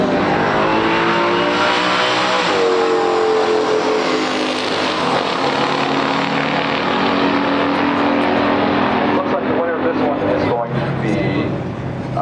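A 427 COPO Camaro ZL1 of 1969 roars down the drag strip alongside a Dodge Challenger, loud sustained engine howl with shifting pitch under an announcer's steady commentary.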